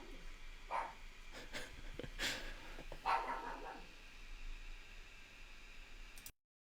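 A dog barks a few times, faint and distant, over a steady hiss of background static, with scattered softer noises between the barks before the sound cuts off abruptly.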